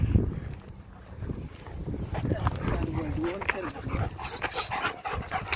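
Several black dogs gathered together outdoors, panting and shuffling close by in wind, with people talking over them throughout.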